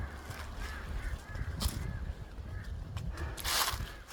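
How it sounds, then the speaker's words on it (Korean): Crows cawing together outdoors, a few rough scattered calls of moderate loudness at a middle distance, mixed into steady background noise with no talking. "아주 그냥 까마귀들이 그냥 합창을 하네."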